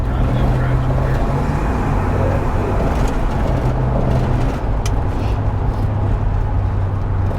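A 1969 Dodge Polara 440 California Highway Patrol car cruising, its steady low engine rumble and road noise filling the cabin from start to finish, with a few light rattles near the middle.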